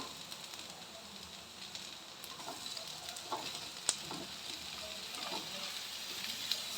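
Ridge gourd fries with light-browned onions in a pan, giving a soft continuous sizzle with faint stirring scrapes and small crackles, quiet and close.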